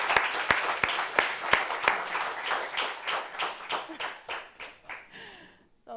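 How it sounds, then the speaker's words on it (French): Audience applause, a burst of dense clapping that starts strong, thins into slower scattered claps and fades out over several seconds. "Applaudissements pour ça."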